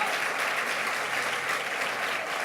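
A church congregation applauds together, a dense, steady wash of clapping that fills the whole moment without pause.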